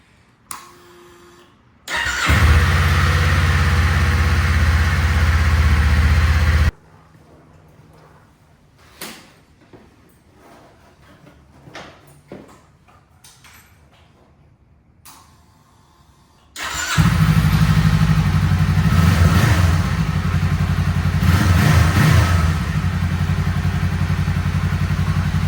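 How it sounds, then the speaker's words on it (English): A Kawasaki Eliminator 500 motorcycle fires up and idles loudly nearby, cuts off amid scattered clicks and handling noises, then restarts and settles into a steady, throbbing warm-up idle. "I'm just gonna warm up the bike and go for a ride"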